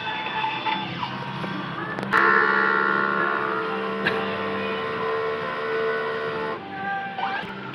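Printer running a head clean cycle, a steady mechanical whir with a few clicks and knocks as the heads move and cap, moderately loud and continuous with no talk.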